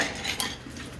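Dishes being washed in a small kitchen, with close, bright clinks of pots, plates and cutlery knocking together in a quick, irregular flurry and no voices.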